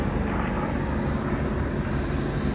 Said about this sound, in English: this is the second time that we've seen the same Corsair aerial display.